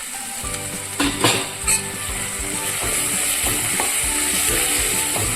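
Ginger-chilli paste with turmeric sizzles and crackles in a hot pan, a constant close hiss punctuated by a few metallic spoon clanks early on.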